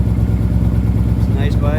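A motorcycle repaired after flood damage runs at a steady idle, its close, even engine pulse continuing throughout the short stretch, with a faint higher whine near the end.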